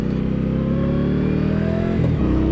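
A 2022 Indian Scout Rogue motorcycle engine while riding, a loud, close throbbing drone that rises in pitch, then drops sharply as the rider shifts or rolls off, with no talk.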